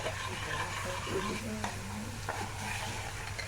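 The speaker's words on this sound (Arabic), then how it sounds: "والبصل بيتحمر اهو" Onions frying in a pan for Egyptian koshari, a dense continuous sizzle with a few soft stirring scrapes, close and steady.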